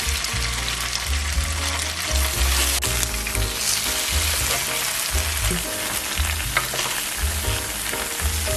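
Tofu pan-frying in a little oil for tofu kimbap gives a dense, loud, continuous crackling sizzle with scattered pops and some light turning noises, no talking.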